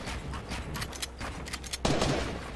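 Rapid bursts of gunfire in a Fortnite match, a dense fusillade of overlapping shots with a louder, closer volley near the end.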